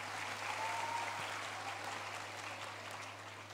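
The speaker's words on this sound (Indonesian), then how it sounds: "Boleh tepuk tangan dulu teman-teman." A student audience at a university orientation event claps together, a quiet, even patter of applause heard from a distance over a low steady hum.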